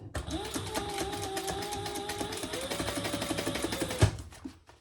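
A sewing machine stitches fabric sides closed during a bag-making job, giving a fast, even mechanical whir and clatter that runs for several seconds before stopping with a sharp clunk, close and moderately quiet.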